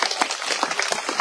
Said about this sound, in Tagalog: Sarap palakpak sa Diyos